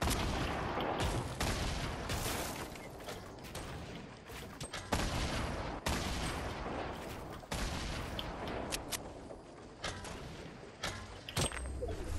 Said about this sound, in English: Now they're just gonna shoot up the porta fort.